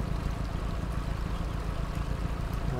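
Two heavy trucks idle together in the MudRunner/Spintires off-road game, making a dense, continuous low engine rumble that stays steady and close throughout, with no talking.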